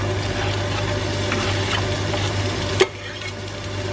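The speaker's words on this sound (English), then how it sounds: "what I'm gonna do is I'm gonna add the onion." Onion goes into a hot oiled pan with fragrant spices for a cauliflower and chickpea curry, giving a steady sizzle while it is stirred, then a brief clatter after which the frying turns quieter.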